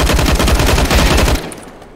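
Rapid automatic gunfire in CS:GO, a loud close burst of evenly spaced shots that cuts off abruptly near the end, leaving quiet.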